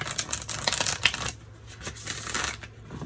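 Tarot card deck being shuffled by hand, close and crisp, with rapid riffling flutters followed by softer intermittent card slides, no talking.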